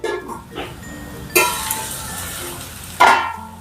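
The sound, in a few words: spoon stirring bhagar shira cooking in pan on low gas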